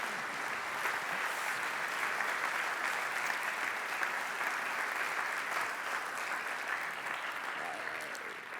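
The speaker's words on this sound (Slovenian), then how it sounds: "Si zasluži aplavz ta pregled zgodovine." Steady applause from an audience at a university centenary ceremony for electrical engineering, a soft, even patter of many hands heard from some distance, slowly easing off at the end.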